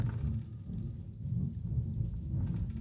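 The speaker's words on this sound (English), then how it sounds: "You probably heard the thunder as I predicted it." Thunder rolls as a low, soft, distant rumble, swelling and fading steadily, with a light hiss of rain behind it.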